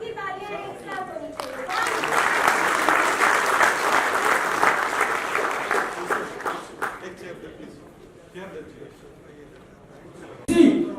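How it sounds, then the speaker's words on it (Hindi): A crowd at a youth festival and awards event bursts into sustained applause that swells and then tapers, with voices talking over and around the clapping. "सबकी तालियां एक साथ होनी"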